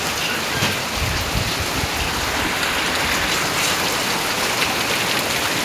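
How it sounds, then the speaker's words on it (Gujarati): Steady, heavy rain pours down continuously, a dense hiss of drops hitting surfaces with no voices. "હજુ વરસાદ ચાલુ છે"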